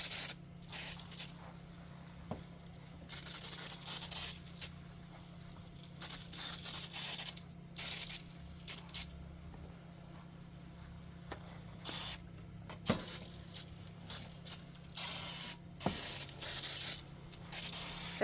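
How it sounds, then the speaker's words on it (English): Hand sprayer misting seed-starting mix with vermiculite, a series of short hissing squirts in irregular bursts with pauses between, close by and moderately loud, nobody talking. "And then I'll take my sprayer and I will moisten everything down."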